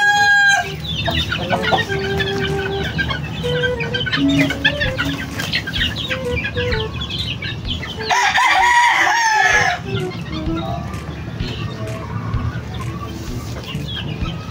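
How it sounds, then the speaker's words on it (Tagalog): Chicks and chickens at feeding time, with loud continuous clucking and chirping close by, crowing in the mix and a sharper burst of squawking partway through. "Ayun, ang ating mga sisiw."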